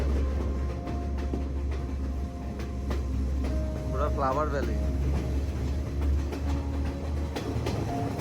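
Sri Lankan train running through clouds, a steady loud rumble with rhythmic clicking of wheels over rail joints and a brief high squeal, while a person talks over it.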